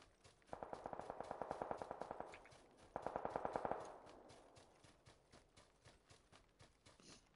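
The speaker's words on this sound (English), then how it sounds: "They're shooting from behind us." Rapid automatic gunfire from the PUBG video game rattles in two sustained bursts from behind, the second shorter, followed by a trail of fainter, scattered shots.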